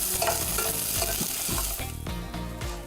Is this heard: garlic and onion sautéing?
yes